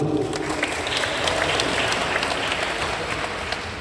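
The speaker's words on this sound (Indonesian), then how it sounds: "Tepuk tangan dulu." An audience of residents at a community gathering with the local police chief in a hall claps together, a steady, moderately dense round of applause with a faint background hum beneath it.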